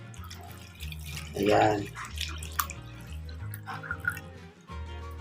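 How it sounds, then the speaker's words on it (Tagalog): Half vinegar and half water poured into a container for soaking nickel brass 5-peso coins; a short splashy pour swells midway, with someone speaking over and around it. "Kalahating suka at kalahating tubig ilagay natin dito mga kaibigan."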